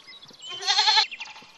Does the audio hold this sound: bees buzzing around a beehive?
no